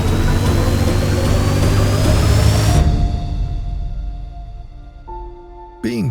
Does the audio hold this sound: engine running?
yes